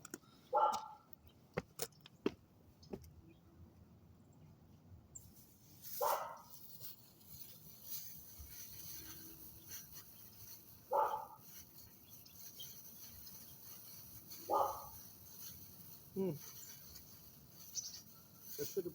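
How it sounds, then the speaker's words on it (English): A neighbor's dog barks outdoors on a windy day, single sharp barks spaced several seconds apart, moderately distant and clear over a low, steady wind background. "That's just the neighbor's dog."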